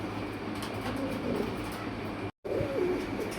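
Pigeons coo softly at a pigeon seller's, low murmuring calls over a steady broadband rumble, with a brief dropout of silence just before a final coo.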